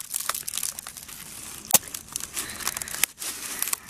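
An old, falling-apart basket being cut away from a Portland cement flower pot, with repeated close crinkling, crunching and tearing sounds and a couple of sharp snaps, no talk.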